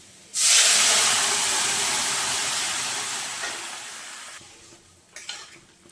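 A sudden loud hiss of steam and sizzling as boiled potatoes hit a hot pan, fading slowly over several seconds before a few soft clinks.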